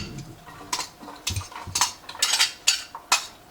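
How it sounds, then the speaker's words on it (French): Garlic and onion tumble into a hot pan with meat juices, bringing a run of close clinks and scraping utensil knocks that grow busier toward the end, with no talking. "Je vais venir mettre l'ail et l'oignon"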